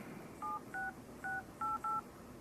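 Keypad tones from an HTC One M8 phone dialer: five short dual-tone beeps in an uneven sequence, clear and close against a quiet room hiss.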